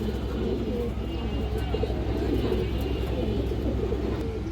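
Pigeons coo in a continuous low, throaty murmur, close and fairly loud, with steady background noise and no clear talk.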